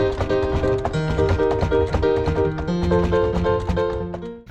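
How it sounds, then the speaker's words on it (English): Piano in a remix, a quick run of bright struck chords and notes over a pulsing low line, busy and rhythmic throughout before cutting off abruptly, no talking. "Then there's a piano in the middle and it sounds like this."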